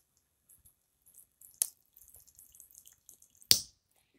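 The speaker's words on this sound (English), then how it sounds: "This is the drip tube through which the water is flowing." Water drips from a drip irrigation tube in a school science model: two distinct, sharp drops land seconds apart amid faint, sparse ticking in near silence.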